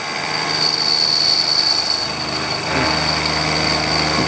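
A machine tool cutting metal at about 1300 RPM while skimming high spots off a steel part for an Enerpac toe jack, a steady close whine with a high-pitched cutting tone and a slight shift in pitch partway through.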